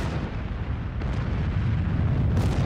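Mount Vesuvius erupting in a volcanic explosion, heard as a dense, rumbling roar with deep booming bursts and a few sharper cracks, loud and sustained throughout.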